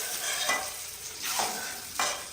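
Potatoes fry in hot oil with a close, continuous sizzle that swells into three louder crackling surges as the pieces are turned.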